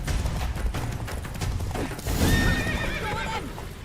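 Roach the horse in The Witcher 3 whinnies loudly over rapid galloping hoofbeats and clinking tack, a close, busy game scene without speech.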